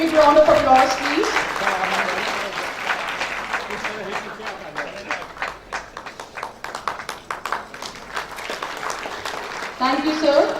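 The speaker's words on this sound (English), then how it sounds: "A big round of applause, please." An audience at an engineering college convocation gives a sustained round of applause, dense steady clapping filling the hall for about ten seconds, with a voice speaking at the start and again at the end.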